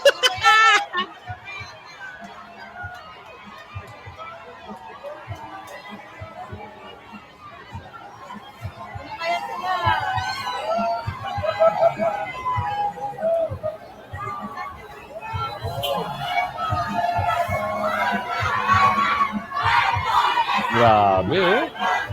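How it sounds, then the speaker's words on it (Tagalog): Crowd noise at a Philippine political rally, broad murmur and shouting that swells louder in the second half with bursts of cheering, children's voices and chatter mixed throughout. "Hiyawan!"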